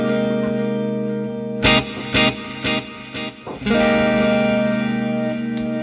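A Line 6 Helix ducking delay on electric guitar: sustained chords ring out, then a few picked notes repeat as echoes that swell back up once the playing stops, with feedback raised for a more pronounced effect.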